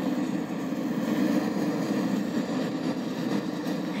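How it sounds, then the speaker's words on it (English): In a train simulator game, a passing train gives off a continuous heavy rumble with a low engine drone, loud and unbroken for the whole stretch, with no talking. "And there goes the train."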